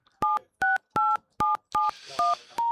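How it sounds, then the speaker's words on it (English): Telephone dialing tones sound as a broadcast line is reconnected: seven short, evenly spaced DTMF beeps, clear and close, with faint background noise between them. "Apologies for the dialing tone you can hear. That's trying to reconnect one part of our output."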